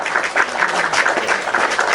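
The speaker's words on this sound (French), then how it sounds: "On applaudit pour lui." Applause from a small group rings out as brief, dense rhythmic clapping, close and fairly loud, lasting a couple of seconds.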